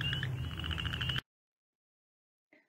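A Midland chorus frog gives a rising, rapidly pulsed trill like a finger run along comb tines, loud and close, cutting off abruptly. After a silence, a brief faint call follows.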